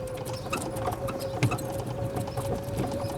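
Horse hooves clip-clop in a steady irregular rhythm on a stable yard beside turnout fields, close and clear, with a faint steady mechanical hum underneath.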